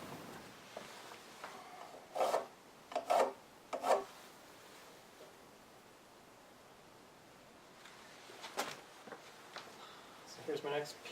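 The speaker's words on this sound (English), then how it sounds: "So now I'm going to cut some spacers." Wooden spacers for barn jack studs being cut by hand, a few short rasping saw bursts near 2–4 s and again around 9–11 s, moderately close, with quiet room noise between.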